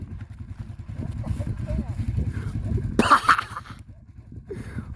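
A dirt bike engine chugs in rough low pulses, loud and close, with a sharp burst of noise midway and voices shouting over it.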